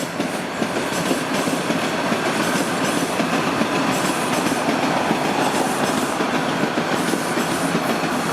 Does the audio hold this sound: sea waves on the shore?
no